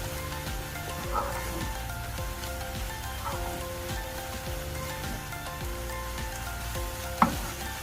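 Tinned tuna curry simmers and reduces in a pan, giving a steady soft sizzle and bubbling with a few faint pops and one sharper tick near the end, close and fairly quiet.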